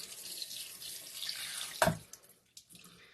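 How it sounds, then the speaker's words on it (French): Water runs from a tap into a sink while a face is rinsed with a silicone pad, making a soft steady hiss with a brief louder splash partway through, followed by small drips. "je vais rincer mon visage avec le deuxième côté du pad"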